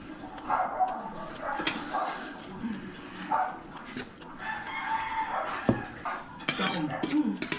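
Dishes, pots and pans clatter as they are handled for washing, with irregular clinks and knocks of metal and crockery at moderate distance, a rooster crowing and a dog barking in the background.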